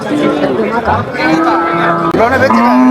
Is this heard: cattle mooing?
yes